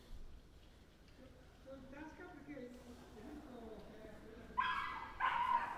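A dog barks twice in short, fairly loud bursts near the end, in a quiet lakeside village street on Lake Garda, following a stretch of faint ambient murmur and distant conversation.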